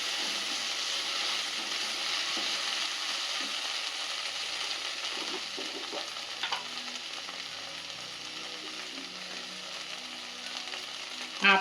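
Okra (lady's finger) with green chillies frying in a pan for a dry fry, giving a steady close sizzle with occasional stirring clinks and a louder knock at the end.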